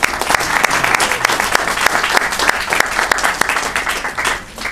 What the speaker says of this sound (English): So I think just a quick round of applause for the filmmakers again.